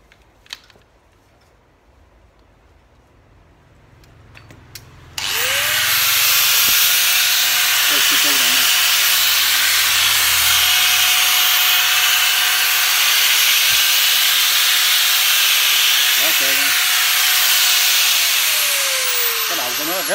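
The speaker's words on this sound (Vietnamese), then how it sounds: "Cây mài này Kosuku điện 100V. Nó 620W" A Kosuku 100V 620W Japanese angle grinder with a 100 mm disc switches on after a few quiet seconds and runs at a loud, steady high-pitched whine with a constant tone, close and alone, slightly dipping near the end.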